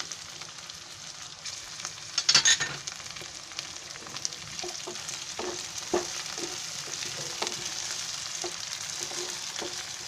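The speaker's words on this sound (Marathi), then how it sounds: "आता याच्यामध्ये ना ही थोडीशी टोमॅटो ठेवली आहे ती टाकते" Tomatoes frying in a pan for tomato rice, a steady close sizzle with scattered crackles and a brief louder burst of spitting early on.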